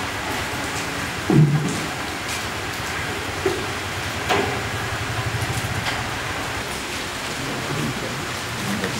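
Heavy rain falls steadily at an outdoor stage play, a dense, even hiss that runs throughout with a few brief louder knocks and thumps.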